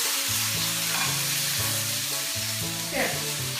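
Potato cubes browning in a hot frying pan, a loud, dense and continuous sizzle with a faint tonal hum running underneath.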